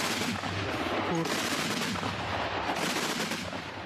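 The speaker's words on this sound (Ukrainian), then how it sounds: "Ворожі, то зараз працює артилерія." Heavy artillery fire booms and rumbles continuously, loud and close, with sharp reports blending into a dense, sustained barrage.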